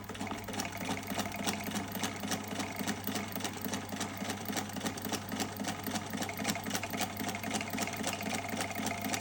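A sewing machine stitching along a paper junk journal page hums in a fast, steady, even rhythm, close and continuous, with no pauses.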